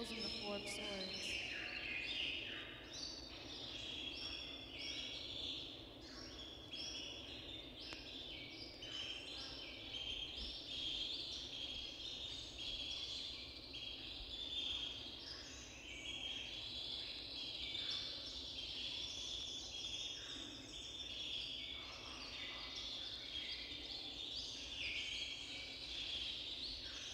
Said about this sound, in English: If you're wondering what are these bird noises, this is from the environment's new concepts in stereo sound. It's called the optimum aviary.